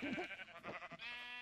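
Sheep bleats in the Minecraft video game, a couple of short wavering calls followed by a longer, bright, steady bleat, fairly close and clear with no talking.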